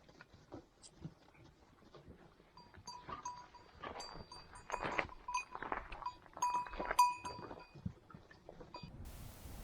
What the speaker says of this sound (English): Nice little feast for the sheep.